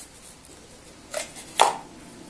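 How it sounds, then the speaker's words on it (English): A whole coconut struck with the back of a cleaver until its shell cracks open: two sharp, close, hard knocks about half a second apart over a quiet background. "a few more whacks, a good measure, but you can hear the tone of it. The coconut, it's starting to crack."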